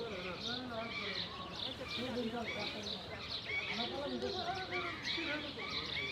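Starlings chirp busily in a wildlife reserve, a continuous chatter of overlapping bird calls at moderate distance, with people talking over it.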